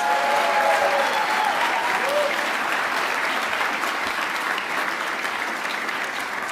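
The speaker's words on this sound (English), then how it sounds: "Let us give those young people from Luther Burbank and John Seal a round of applause." Sustained, even applause fills a large hall at a city's State of the City address as the audience honours young people, a dense wash of clapping from many hands, with faint voices briefly audible early on.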